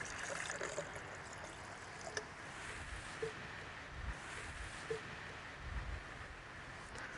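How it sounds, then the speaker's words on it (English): A steady trickle of water pouring into a Jetboil stove cup, a soft continuous splashing with a few faint clicks and clanks near the end. "Put water in the cup."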